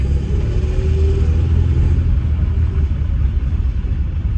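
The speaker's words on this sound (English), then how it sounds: "it sounds like it's just this raspy, horrible sound" A Mercedes-Benz W202 C180 Esprit pulling in second gear, its faulty exhaust giving a loud, continuous, raspy low rumble throughout.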